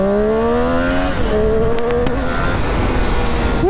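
A BS6 Triumph Street Triple R motorcycle engine revs hard in first gear, its loud, close, harmonic whine climbing and shifting in pitch before settling into a sustained high roar with no talk.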